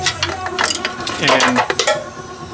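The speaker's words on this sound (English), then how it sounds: "I was able to get my wrench with an extension, my socket with an extension, right into there to break it loose" A ratchet wrench fitted with a socket and extension works a nut loose, giving a cluster of close metallic clicks and scraping clatter over a couple of seconds, with some background noise.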